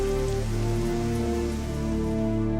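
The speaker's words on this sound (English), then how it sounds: "Liquid methane, it seems, rains down on Titan" Steady, dense rainfall hisses without a break, standing in for liquid methane rain falling on Saturn's moon Titan.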